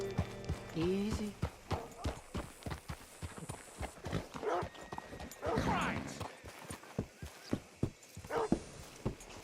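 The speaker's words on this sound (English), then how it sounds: "Hitch your horse up here." Horse hooves clip-clop in a steady walking rhythm in Red Dead Redemption 2, close and distinct, with a brief whinny and character voices talking over the steps.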